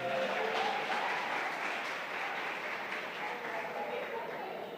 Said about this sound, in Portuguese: Vamos aplaudir ele, vamos aplaudir.